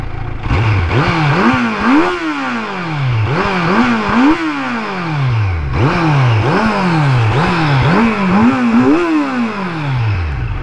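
Kawasaki Z900 motorcycle engine revving up and shifting while being ridden, loud and close, with repeated rising pitch sweeps, each cut by a gear change, in a rhythmic pull through the gears.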